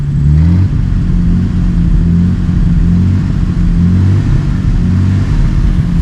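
A 1950 Dodge Meadowbrook engine after carburetor and accelerator pump repair, running loud and close with pulsing revs as the gas pedal is pushed, rising and falling in a steady rhythm with no talk.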